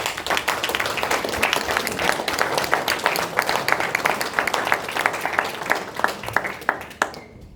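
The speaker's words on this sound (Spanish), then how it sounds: "Denle un aplauso a Jesús." Congregation at a church service in Juárez, Chihuahua claps in sharp, irregular bursts of individual hand claps, fairly close and steady for several seconds before tapering off abruptly near the end.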